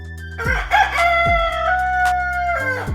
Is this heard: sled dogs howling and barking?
no